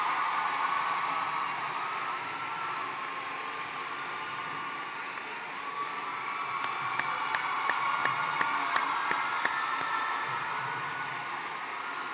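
A large crowd at Miami Central High applauds and cheers for the teachers, a broad, steady wash of clapping and crowd noise with a few sharp, close claps standing out partway through.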